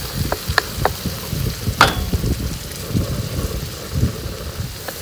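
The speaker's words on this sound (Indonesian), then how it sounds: "Kita goreng dulu bahan tumisnya sampai bau dia naik." Spice paste for a spiced goat dish sizzles in a hot pan at a beachside spot in Johor Bahru, a steady close crackle of frying with occasional sharp scrapes and clinks of stirring, no talking.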